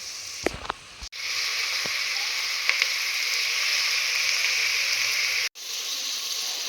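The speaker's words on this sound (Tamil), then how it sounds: "இப்போ இது நல்லா வதங்கட்டும்" Onions sauté in hot oil for seeraga samba chicken biryani, giving a continuous loud sizzle after a few clattering knocks at the start, broken by two brief cutoffs.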